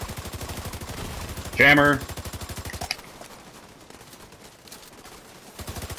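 Rapid automatic gunfire in The Division 2 video game, a steady stream of loud shots that drops off partway and resumes at the end, with a brief spoken word over it.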